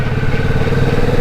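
A motorcycle engine runs steadily and loud while ridden at night, a dense low drone with a rough, pulsing mechanical texture and no talk over it.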